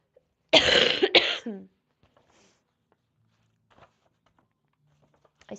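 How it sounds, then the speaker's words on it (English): A person coughs twice in quick succession close to the mic, a harsh burst followed by a short throaty tail, then near silence with faint small movements. "I still have this cough."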